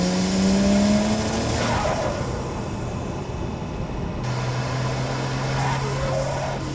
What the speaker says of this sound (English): It must just be like the individual turbos dosing.